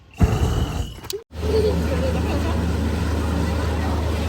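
A steady, low motor drone of a boat ride continues after a sharp break, with engine rumble and water noise filling the background while people talk and call out nearby.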